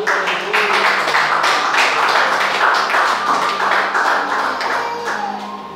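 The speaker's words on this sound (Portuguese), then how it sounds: "Pode sentar aplaudindo ao Senhor" A church congregation claps along during a Portuguese-language service, producing steady, rhythmic clapping over a low sustained tonal hum, moderately loud and continuous throughout.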